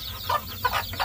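Fawn hens clucking with their chicks in a cage pen, several short rhythmic clucks close and fairly loud over a steady low background hum.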